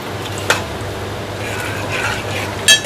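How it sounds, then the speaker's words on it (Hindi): Whole spices dropped into hot oil for dhaba-style chana daal, sizzling in a soft continuous hiss close by, with a couple of brief clinks of a spoon against the pan. "सबसे पहले ऑयल गर्म होने के बाद हम इसमें जो साबुत मसाले मैंने आपको बताए थे वो डालूंगी।"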